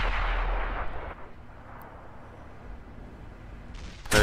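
A World of Tanks tank cannon fires blind from a British tier 7 Comet medium: one loud booming shot rolls off over about a second into quiet, and a second sharp blast hits at the very end.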